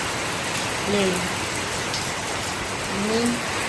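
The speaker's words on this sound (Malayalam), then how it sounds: "നല്ല മഴയാണ് കേട്ടോ കുറേ മഴ പെയ്ത് കണ്ടിട്ട്" Steady rain hisses throughout, dense and continuous, with a couple of faint brief tonal chirps rising above it.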